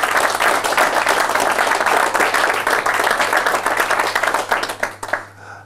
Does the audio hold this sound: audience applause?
yes